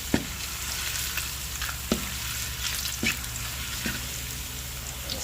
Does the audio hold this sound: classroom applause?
no